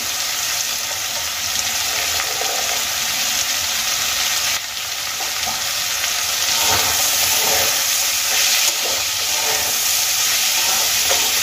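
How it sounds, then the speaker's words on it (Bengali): Potatoes and green peas frying in a pan for a spicy eggplant-potato curry, a loud, steady sizzle and hiss of hot oil with occasional stirring, continuing throughout without talk. "এবার আমি খুব ভালো করে আলু আর মটরশুঁটি ভেজে নেব।"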